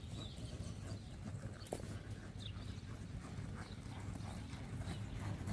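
A horse bought at auction is ridden at a walk, its hooves giving a soft, steady clip-clop rhythm under faint outdoor ambience.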